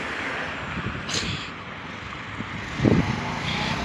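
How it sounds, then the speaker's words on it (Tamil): Vehicles passing along a road, a steady roadside traffic rumble with one car whooshing by near the start and another heavier pass swelling louder toward the end. "ரோட்டில் வாகனம் போகும் பாருங்கள்"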